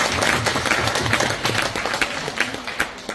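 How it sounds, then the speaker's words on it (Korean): Audience applause at a Korean election candidate's book launch event, steady dense clapping from a crowd filling the whole stretch, moderately loud with a few sharper claps standing out. "박수."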